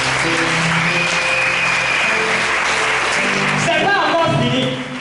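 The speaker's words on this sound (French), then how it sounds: "Acclame Jésus" A church congregation claps through a worship service, with sustained, loud, steady applause and voices mixed in throughout.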